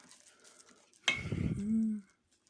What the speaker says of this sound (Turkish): Şimdi biraz böyle karıştıracağız.